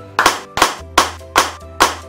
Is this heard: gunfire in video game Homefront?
no